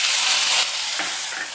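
Tomatoes frying in a pan with dry red chillies, curry leaves and garlic, a loud, close, continuous sizzle and hiss that drops a little in intensity partway through.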